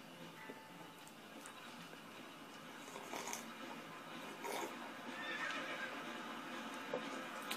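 A horse neighs in a Western video game near a railway, with a whinny and clip-clop of hooves over a dense, busy game backdrop, moderately loud with no speech.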